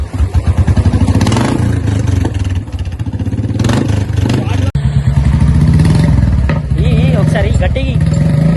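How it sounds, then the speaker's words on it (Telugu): A Royal Enfield motorcycle with the exhaust silencer removed, its engine loud and close with a rough, clattering thump and repeated revving swells, heavily mixed with someone talking over it throughout. "వితౌట్ ఎగ్జాస్ట్ అయితే మనం ఇప్పుడు ఈ బండిని స్టార్ట్ చేస్తున్నాం."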